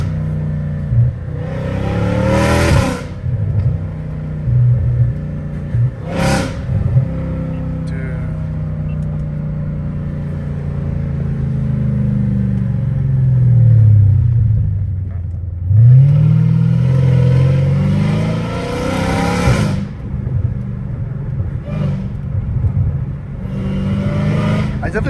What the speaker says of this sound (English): I definitely wish I could like turn off the whole exhaust right now and just enjoy the whine.